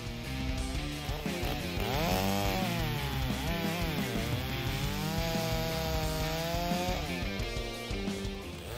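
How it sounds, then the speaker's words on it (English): Stihl MS-661 chainsaw cutting firewood, the engine holding a loud, steady high-pitched whine with rising and falling pitch as the chain bites into the wood, continuous and close throughout. "the MS-661 chainsaw easily handles firewood handling"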